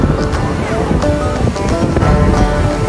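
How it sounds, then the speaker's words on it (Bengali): Sea waves rolling in at Udaipur beach, a loud, continuous wash of surf mixed with wind rumble, with faint tonal sounds and distant activity in the background. "এখন এসেছি উদয়পুর বিচে"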